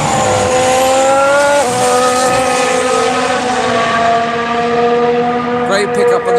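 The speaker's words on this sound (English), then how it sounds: "Great pickup on the Ferrari mid-corner" A Ferrari race car sweeps through a corner during Barcelona testing, its engine note loud and close, pitch dipping as it brakes mid-corner and then climbing steadily, with a sharp burst near the end.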